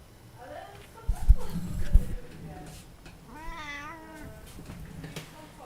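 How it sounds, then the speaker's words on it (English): A pet cat meows in short pitched cries near the end, close by and fairly clear, following a couple of low thumps; a person's voice is heard earlier in the room. "Kitty. Kitty. Kitty. Meow. Meow."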